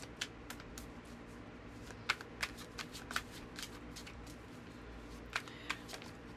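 Tarot cards being shuffled by hand, heard as soft close riffling with scattered sharper card flicks and snaps, steady and fairly quiet.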